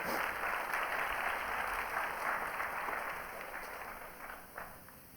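An audience at a World Science Festival talk by mathemagician Arthur Benjamin breaks into steady applause for a volunteer, a dense, even clatter of many hands that holds for several seconds and then slowly thins out.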